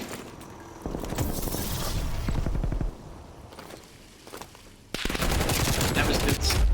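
Rapid automatic gunfire from Call of Duty Cold War in a competitive LAN match, dense bursts of shots that pause briefly and then resume louder, with faint footsteps and a caster's voice partly underneath.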